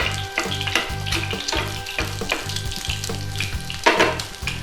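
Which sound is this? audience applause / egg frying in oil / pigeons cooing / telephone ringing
egg frying in oil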